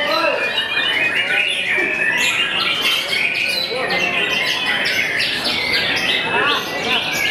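Several songbirds call at a bird contest where a white-rumped shama (murai batu) is singing, giving a loud, constant wash of chirps, squawks and trills with crowd voices beneath.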